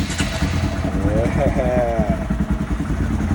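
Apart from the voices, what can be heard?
Honda S2000 with Brock-style exhaust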